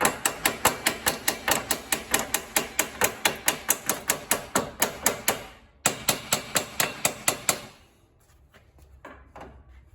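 Rapid, relentless metallic hammer blows on a wheel bearing of a 2001-2006 GMC Denali, over twenty in quick succession, close and loud, with a brief pause near the end before a few faint final taps.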